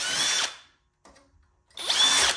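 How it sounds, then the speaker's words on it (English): Two short bursts of a power drill whining at high speed, close up, deburring laser-cut holes with a drill bit, separated by a brief near-silent pause with faint handling noise. "you just gotta run a drill bit in them real quick"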